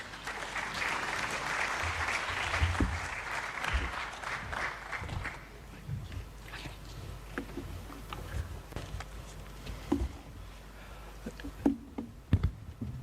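An audience at an annual general assembly session applauds, with dense clapping at first that thins out into scattered claps and a few louder individual ones toward the end, heard from some distance.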